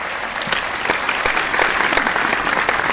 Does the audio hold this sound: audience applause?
yes